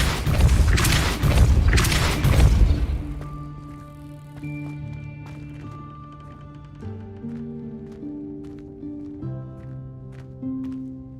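Depulso spell cast in Hogwarts Legacy: a couple of heavy booming bursts at the start, followed by sustained tonal game music.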